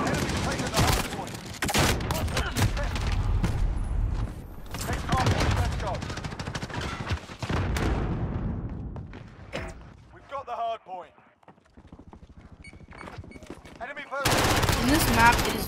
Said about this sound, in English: I'm sure you can hear all the gunshots and explosions that go on.